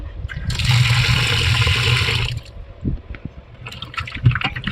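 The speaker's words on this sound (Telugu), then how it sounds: "దీన్ని మంచిగా సాల్ట్ వేసుకొని నీట్గా కడేసుకోవాలి" Running water gushes loudly for about two seconds as half a kilo of raw mutton is washed with salt, followed by quieter splashes, drips and handling clatter.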